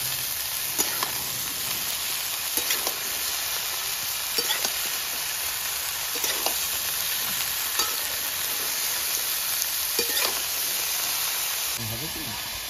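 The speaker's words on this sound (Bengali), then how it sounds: "ভালো করে একটু ভেজে নেবো।" Cauliflower stems and potatoes frying in a pan give a steady close sizzle and hiss, broken by periodic scrapes of stirring.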